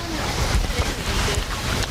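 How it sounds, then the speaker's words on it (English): Water splashes and trickles continuously in a small garden waterfall feature, a steady rushing wash with some low rumbling, heard outdoors close by. "that's a pretty little waterfall."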